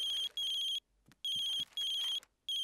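A cartoon mobile phone ringtone beeps in repeated electronic bursts, each about half a second long, separated by short gaps with faint low thumps, clear and fairly quiet.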